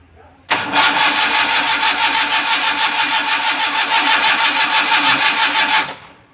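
A freshly overhauled Suzuki motorcycle engine catches suddenly and runs loud and close at a steady idle with a rapid, even pulse for several seconds, then cuts off abruptly.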